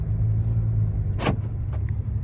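A Mercedes V-Class 300d diesel van idles with a steady low rumble, then a brief louder whoosh of the engine pulling away at the start of a test drive, with a couple of small clicks after.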